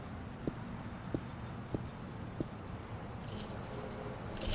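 A ring of keys jangles in the point-and-click adventure game The Longest Journey, four small metallic clinks spaced about a second apart, faint against a low ambient hum, with brighter chinking near the end.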